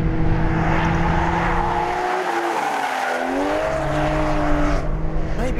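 An Aston Martin Vanquish driven hard, with its engine note rising and falling steadily and tyres squealing in long sliding skids, loud and close throughout with no talking.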